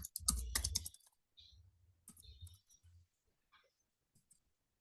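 Quiet clicking of typing on a computer keyboard, with a quick cluster of keystrokes at the start and then sparser, scattered taps that fade toward the end.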